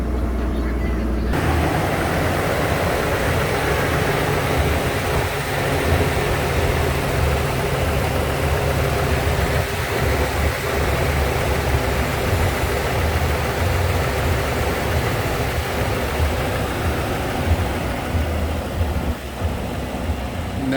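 A 2012 Ford F550 Super Duty bucket truck with a 40-foot boom and a Triton 6.8L engine idles in a steady, continuous low rumble. It is close and fairly loud, and the drone stays unchanged the whole time.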